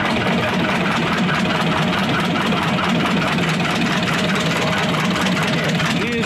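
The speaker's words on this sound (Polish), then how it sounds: "Zobaczymy, jak się rozgrzeje silnik." A Vladimirets T-25 tractor engine idles steadily and loudly nearby while warming up, a constant rumbling chug with a slight rhythmic knock throughout.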